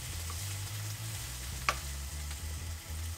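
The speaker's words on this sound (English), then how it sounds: "We'll let this wilt down." Spinach wilts in a hot pan alongside stuffed pork chops, a soft, faint, steady sizzle over a low hum, with one brief click and no voices.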